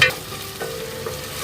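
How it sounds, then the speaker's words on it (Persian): Tomato paste fries and sizzles in a pan while being stirred, a close, steady crackle broken by brief scraping strokes of the utensil. "رب بانجان رومی را خوب سرخ میکنیم تا رنگش برآید"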